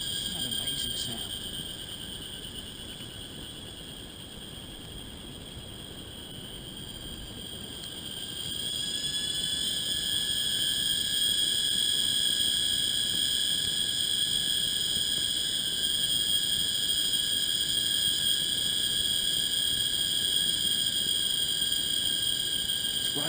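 Dense chorus of frogs calling at night in a Taiwan forest, a steady high-pitched trilling drone that swells louder partway through and rises and falls in waves, with no voices over it.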